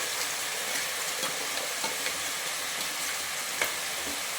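Ground masala is being stirred into mushroom gravy frying in oil in a pan: a faint, steady sizzle with soft, irregular scrapes and taps of the spoon.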